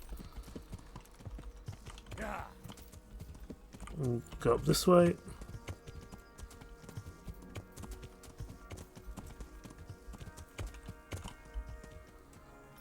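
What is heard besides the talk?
horse hooves walking in video game Kingdom Come: Deliverance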